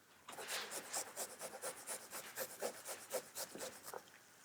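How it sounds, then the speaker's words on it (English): Kitchen knife chopping peeled garlic cloves on a board, a quick run of crisp, evenly spaced taps close by and fairly loud, continuing steadily with no talk. "And then I'm just chopping it."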